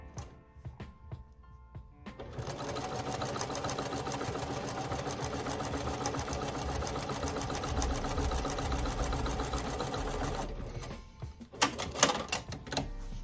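A sewing machine runs steadily for about eight seconds, stitching African print fabric for a kufi cap. It starts abruptly and stops abruptly, and a few louder clicks and clunks follow.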